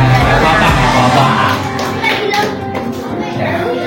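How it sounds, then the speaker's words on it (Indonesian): Indonesian schoolchildren clap together in a classroom during a lesson on taxes, a dense, busy patter of many hands mixed with children's chatter and voices throughout. "Tepuk tangan."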